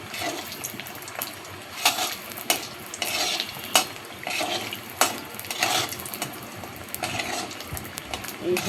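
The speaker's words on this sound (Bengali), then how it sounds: "এই বড়িটা তেলে আমি দিয়ে দিলাম, তেলটা গরম হয়ে গেছে, বড়িটা তেলে দিয়ে নিলাম" Lentil dumplings (bori) fry in hot oil with a crackling sizzle, broken by repeated scraping and stirring strokes against the pan. The sound is moderately close and rises and falls unevenly.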